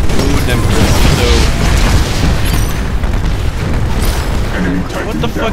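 Torpedo explosions in the video game Titanfall, loud booming blasts over a dense, continuous wash of game combat noise with a voice talking underneath.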